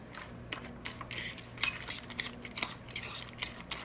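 Crumbled matzah being stirred in a bowl with a utensil, giving a series of soft irregular scrapes and light clinks at close range in a quiet kitchen.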